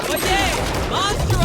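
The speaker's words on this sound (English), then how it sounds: "We do have some gunfire." Gunfire in Valorant pops in quick bursts under a commentator's steady talk, with the shots sounding somewhat distant and partly masked by the voice.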